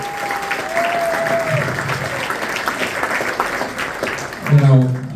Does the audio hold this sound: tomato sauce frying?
no